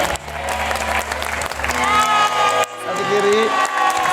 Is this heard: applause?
yes